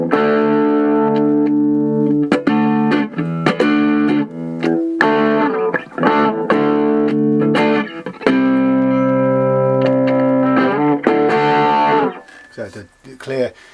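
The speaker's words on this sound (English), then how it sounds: "So the clear distortion difference between the neck and the humbucker at the bridge." Electric guitar with a bridge humbucker played through heavy distortion, sustained gritty chords and notes ringing out loud and close, with brief pauses between phrases before fading at the end.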